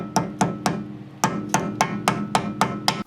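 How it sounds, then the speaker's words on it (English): Rubber mallet tapping a grease-packed end cap onto the front wheel hub of a Mercedes R129: about ten sharp, close knocks in a fairly even rhythm, with one longer pause near the start. "then gently with a rubber mallet tap around it until it's"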